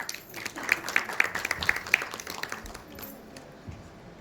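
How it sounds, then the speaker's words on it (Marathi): Audience applause at a Marathi film trailer launch event, a short burst of scattered clapping with a few crisp nearby claps, tapering off into room murmur. "तर आपण या सर्वांसाठी इथे टाळ्या वाजवूयात"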